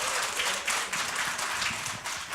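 A studio audience at a Korean Buddhist broadcast program claps for a welcomed monk guest, a dense, steady round of applause with faint voices mixed in.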